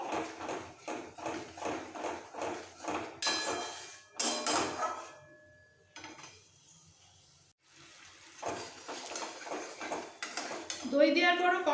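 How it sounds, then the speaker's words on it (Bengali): Spiced masala with sour yogurt being stir-fried in a pan for hilsa biryani: a steady rhythmic clatter of a spatula scraping the metal pan, then a pause, then more scraping, with brief voice-like sounds near the end. "একটু কষিয়ে নেবো"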